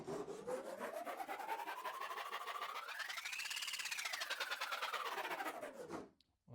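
A Japanese hand saw cuts through a clamped piece of wood in one long, continuous rasping run of fast strokes, the pitch rising then falling before it stops abruptly; nobody speaks.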